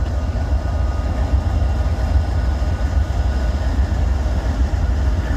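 A northbound coal train with its locomotive stopped on the mainline, giving off a steady loud low rumble and broadband engine drone that holds level throughout, with no voices.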